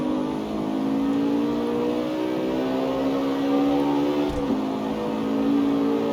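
A Ford Mustang on race tires accelerates in the CarX Street racing game, its steady engine drone rising in pitch, loud and continuous with a brief dip near the end.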